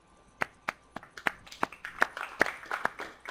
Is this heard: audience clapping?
yes